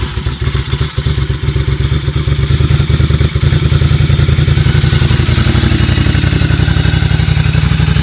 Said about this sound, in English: Now let's turn her on and see how she sounds.